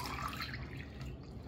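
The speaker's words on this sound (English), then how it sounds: "Now, if we pour over here to the taller mug," Water pours into a tall mug, a steady gentle trickle with faint splashing, quiet and continuous with no talking.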